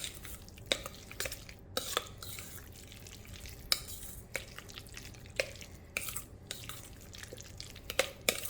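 Salmon cake mixture being stirred by hand in a bowl, with a steady run of soft, wet scraping strokes and occasional sharper clinks, close and moderately quiet with no talking.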